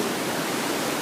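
Waterfall at Scotts Mills Park in Oregon, a steady, dense roar of rushing water close by, filling the whole moment without pause.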